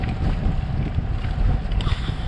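Wind pours over a sailing boat in rough, gusty weather, a loud continuous roaring rush close to the microphone with small surges and no speech.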